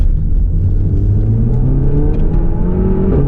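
A Renault Megane R.S. Trophy, a front-wheel-drive performance car, accelerates hard with a loud, steady engine note climbing in pitch as it pulls through the revs.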